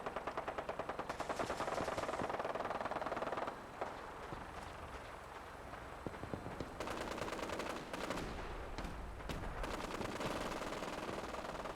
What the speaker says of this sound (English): Okay, so they're shooting something down here.